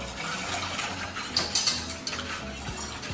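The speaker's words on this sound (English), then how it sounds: "I'm going to shake a little bit and stir rapidly as I go." Rapid stirring of thickener into homemade sugar-free maple-style syrup, a spoon clinking and scraping against the pot in quick, continuous strokes, close and steady with no talking.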